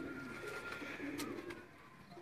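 Sheikh-breed pigeon from Sialkot cooing softly up close, a low steady coo running through the short stretch with a few sharp clicks, alone without talk.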